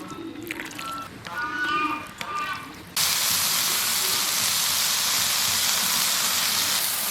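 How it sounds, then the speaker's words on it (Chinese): After a few seconds of talk, a loud, steady sizzle of marinated chicken breast frying in hot oil in a flat pan bursts in and continues without pause. "平底锅里倒一点油，下入腌好的鸡脯肉"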